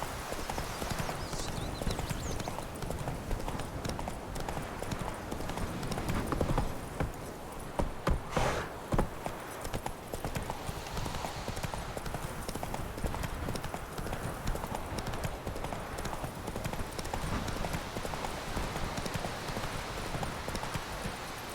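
A horse gallops in The Witcher 3 video game, its rapid, rhythmic hoofbeats drumming steadily throughout, with faint in-game ambience and brief voices underneath.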